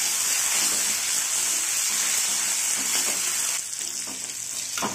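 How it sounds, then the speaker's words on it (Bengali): Leaves fry in hot oil, giving off a loud, continuous hiss with a crackling texture that eases slightly near the end, and no voices are heard. "তেলটা গরম হয়ে গেছে আবার পাতাগুলো দিয়ে দেবো পাতাটাকে খুব ভালো করে একদম পুড়িয়ে একবারে কালো করে দেবো"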